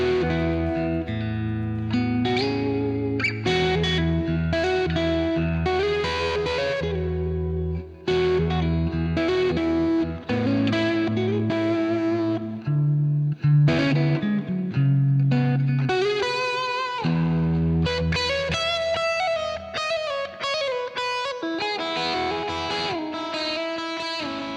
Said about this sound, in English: I'm plugged into my super lead back there for all the distorted stuff